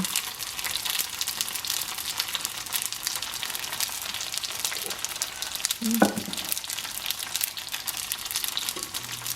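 Fritters sizzle steadily in a hot pan, with a brief clack near the middle as metal tongs turn one over.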